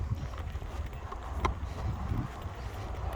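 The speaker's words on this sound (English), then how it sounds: "I didn't realize the wind was going to pick up." Gusty wind blowing outdoors on a winter walk, a steady low rumble of microphone buffeting that swells and eases for the whole stretch, with no voices.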